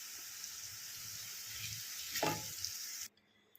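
Asafoetida is sprinkled into a pan of hot roasted spices for a coriander pickle, giving a quiet, steady hiss with one brief rustling burst before the sound cuts off abruptly.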